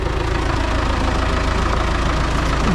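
MTZ-892 tractor engine idling outdoors in frosty weather, a loud steady diesel chug with an even low knocking rhythm, close and continuous with no talk.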